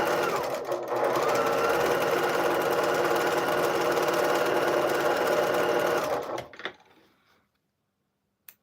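A sewing machine stitches quilt blocks in one continuous rapid whirring run, close and loud, for about six seconds before slowing and stopping, followed by near silence and a faint click.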